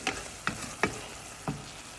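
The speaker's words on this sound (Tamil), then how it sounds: "இப்போ பாருங்கள், தக்காளி நல்லா வதங்கி அந்த எண்ணெய் வந்து நல்லா பிரிஞ்சு வருது" Tomatoes sautéing in oil in a pan for tomato rice, with a steady low sizzle under four sharp stirring scrapes spaced irregularly across the moment, moderately quiet and close.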